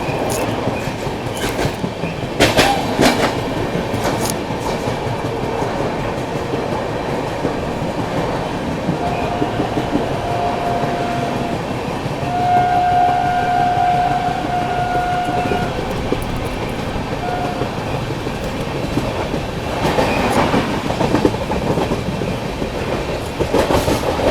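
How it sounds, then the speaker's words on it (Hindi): The Mysore Jaipur Superfast Express rolls past, heard from aboard a train as a continuous loud rumble of wheels with rhythmic clickety-clack, a brief squeal midway and heavier rattling bursts. "चलिए सामने से आ रही है दोस्तों मैसूर जयपुर सुपरफास्ट एक्सप्रेस।"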